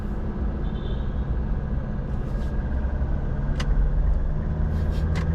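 Manual diesel Mitsubishi Montero Sport accelerating to overtake on the road, a steady loud engine rumble and tire roar heard from inside the cabin, rising slightly, with a few faint clicks.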